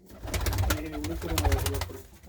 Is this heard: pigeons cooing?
yes